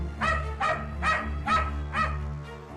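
A dog named Billu barks loudly about six times at an even, steady pace, each bark close and sharp over a constant low hum.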